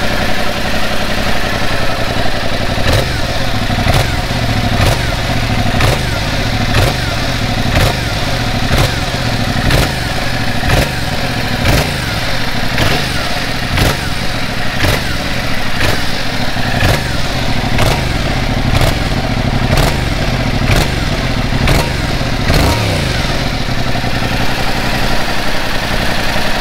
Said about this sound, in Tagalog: yung tunog ng original na stock muffler niya